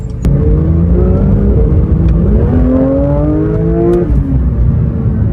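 A Porsche GT3 driven in normal mode, heard from the cabin as a loud, smooth engine drone rising through the revs, dipping at a gear change and climbing again, with steady road rumble beneath.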